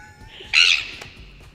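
A single shrill seagull squawk, short and fairly loud, over quiet background, played back from a recording.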